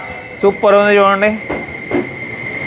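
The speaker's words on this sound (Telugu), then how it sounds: "ఇప్పుడే మరొక ట్రైన్ కూడా వచ్చేసింది" A train pulls into a station in Japan, with a low rail rumble and a steady tone in the background as someone speaks close to the microphone over it.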